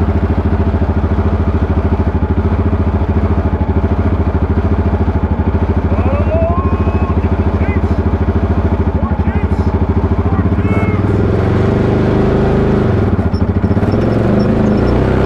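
An electric race car capable of over 120 mph pulling away as throttle is added, a loud steady drivetrain drone with rattling underneath that shifts partway through, heard close from inside the car.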